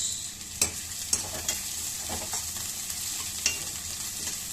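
Onions sizzle steadily in a hot pan, with occasional sharp scraping clicks of a spatula stirring them.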